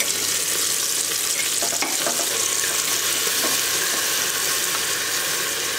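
Ground ginger, garlic and chilli paste sautéing for chicken biryani, a loud, even hiss of frying that holds steady throughout, broken by a few light stirring knocks.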